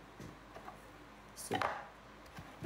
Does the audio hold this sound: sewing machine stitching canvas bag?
no